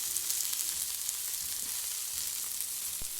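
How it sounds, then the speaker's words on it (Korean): Salmon fillets searing hard in a hot pan, a steady broadband sizzle and crackle that holds evenly throughout, with a brief sharp tap near the end. "연어는 바짝 구워주겠습니다"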